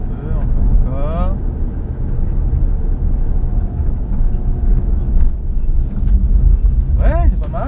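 A Nissan Juke fitted with EasyDrift tyres drifts and accelerates, its engine drone rising steadily and staying fairly close, with people talking over it throughout.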